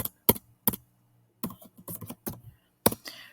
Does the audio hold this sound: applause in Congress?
no